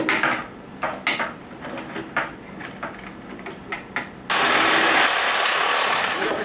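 A saw cuts through an animal skull to trim it flat for a plaque mount, a run of short rasping strokes followed by a sustained loud, steady grinding cut.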